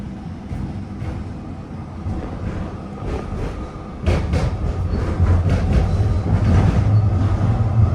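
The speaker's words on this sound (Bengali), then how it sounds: "ট্রামের জন্য ওয়েট করতেছি" A Budapest tram pulls into a stop, its rumble swelling halfway through into a heavy close rolling roar with rail clatter and a rising low hum as the car comes alongside, over street background noise.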